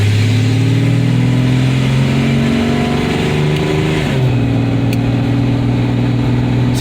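A car's engine and exhaust hum steadily while the car is stopped at a traffic light on a slight uphill, a loud, even low drone that briefly dips in pitch, then settles back into a smooth idle.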